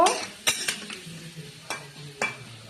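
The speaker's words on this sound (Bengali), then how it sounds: "এবার দিয়ে দিলাম হলুদ। এবার নেড়ে চেড়ে এটাকে একটু ঢেকে দেব।" Pumpkin curry with turmeric being stirred in a pan, with a few sharp metal clinks of the spoon against the pan over a low sizzle.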